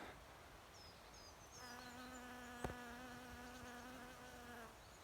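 A bee hums steadily at close range over flowering heather in a quiet outdoor setting, its drone rising and holding for a few seconds before fading.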